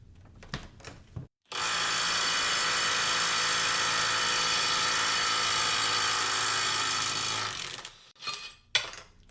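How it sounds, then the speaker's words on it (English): Kobalt impact wrench removing a lubricated nut torqued to about 250 foot-pounds, a loud continuous buzzing hammer run of roughly six seconds after brief handling clicks, then tapering off into a few knocks. "Now we'll go ahead and see how the Kobalt performs at 250 foot-pounds with lubricated threads."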